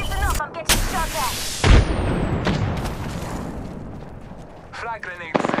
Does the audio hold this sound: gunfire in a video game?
yes